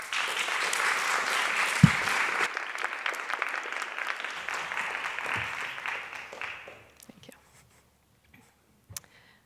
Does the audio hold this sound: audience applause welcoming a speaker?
yes